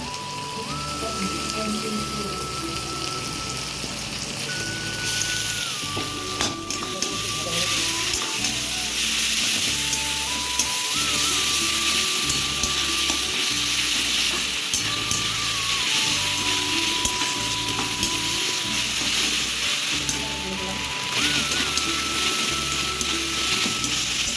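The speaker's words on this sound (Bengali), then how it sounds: "ভাজা ভাজা হোক কাঁচা লঙ্কা বাটা দিলাম টমেটো দিলাম" Green chilli paste and tomato frying in a pan give a dense, steady, rain-like sizzle that runs continuously and loudly, with faint whining tones and a low rhythmic hum underneath.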